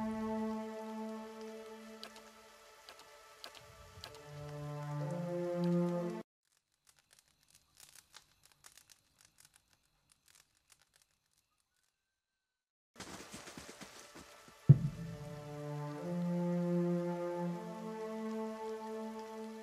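Rain and wind ambience from the video game Pillars of Eternity, with steady tonal music-like layers at the start and end and a quieter, near-silent stretch in the middle broken by faint patters.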